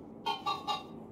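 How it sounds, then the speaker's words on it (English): Chickens in the Minecraft Story Mode video game give three quick, evenly spaced clucks in a row, clear and close against a quiet background. "They even got the chickens."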